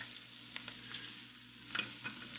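Garlic and snow peas sauté in sesame oil in a pan, giving a steady close sizzle with occasional stirring scrapes and clicks throughout.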